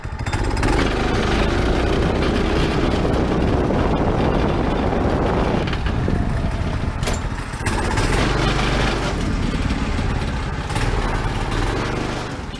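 Leroy Jr's engine runs hard after its governor has been removed, a loud, rough, steady rumble with a rattling, hammering texture, recorded up close outdoors in the cold with no talk.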